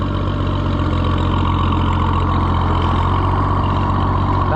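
Oliver 77 tractor engine running at a steady idle, a close, loud, even mechanical chug with no voices.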